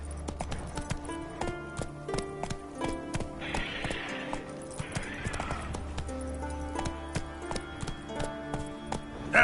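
Roach, a horse in The Witcher 3 video game, gallops with rapid rhythmic clip-clopping hooves and a whinny, set against game music at low volume.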